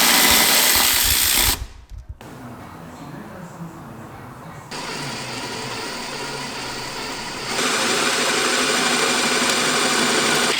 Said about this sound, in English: we'll get that off and then we'll get that hole drilled